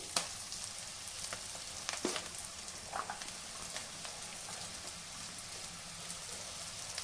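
Carrots drop into gobi fried rice frying in a pan, giving a steady broadband sizzle and crackle with a few sharper ticks and stirring clatters. Close and continuous, no voices.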